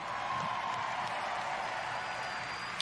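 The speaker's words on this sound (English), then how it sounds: "Another round of applause, please, for Marty Hugo and all of our presenters" Sustained audience applause fills a large hall at the E3 2019 Bethesda conference, a dense, even wash of clapping from a big crowd that holds steady throughout.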